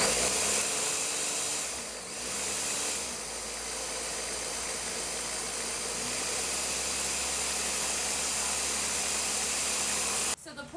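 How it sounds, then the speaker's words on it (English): A blender whirs steadily as it mixes eggs and milk for a fluffy frittata, a continuous loud motor drone running throughout before cutting off abruptly near the end. "So the point of using a blender for this part too is to make it fluffier."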